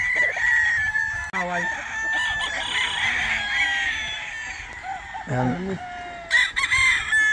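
A rooster crows loudly several times in a row at a gamefowl farm, with clucking hens and farmyard noise around it.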